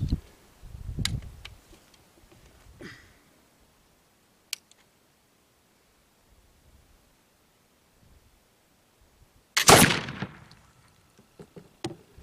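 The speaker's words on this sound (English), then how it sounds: "I'm going to shoot one more shot" A homemade smoothbore gun fires a single loud, sharp shot near the end, followed by a brief decay; faint clicks and handling noises sit in the quiet stretch before it.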